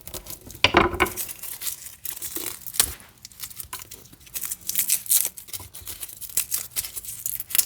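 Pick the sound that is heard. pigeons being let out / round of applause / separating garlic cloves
separating garlic cloves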